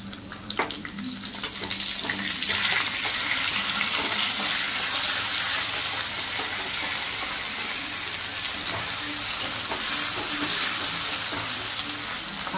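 Ginger and bay leaf paste frying in hot oil with cumin seeds, for a vegetarian featherback fish curry made without onion or garlic: a steady, close, loud sizzle and hiss throughout, with no talk.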